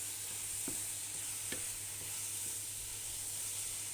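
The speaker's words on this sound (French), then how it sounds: "Et là, je les fais caraméliser." Apples with honey caramelize in a pan with a constant soft sizzle. A few light scrapes come from a utensil stirring them, heard from a little distance.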